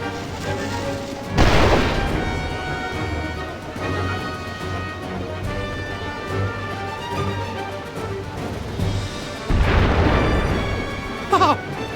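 Ship cannon fire and explosions in the game Final Fantasy War of Visions, two loud booming blasts several seconds apart over a sustained musical score, with a smaller pop near the end.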